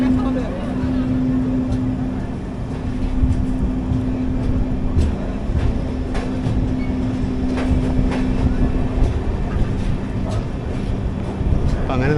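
The 11301 Udyan Express pulls out of Solapur station with a steady, loud rumble of carriages, a sustained low hum and scattered rail clicks throughout, while muffled voices carry in the background.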